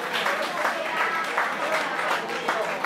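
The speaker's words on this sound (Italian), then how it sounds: "Buonasera, l'applauso." Studio audience of an Italian TV singing show applauds a contestant's entrance with brisk, continuous clapping, moderately loud and even throughout the short stretch.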